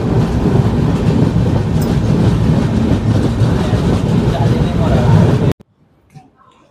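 A train at a railway station on a trip from Hyderabad to Araku rumbles with loud, close clattering wheels and carriage noise under faint voices, then cuts abruptly to near silence near the end.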